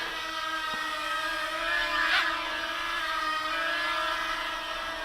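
An Eachine H8 mini quadcopter flies with a steady, high-pitched whine from its tiny motors that swells slightly as it climbs, continuous and close with no talking.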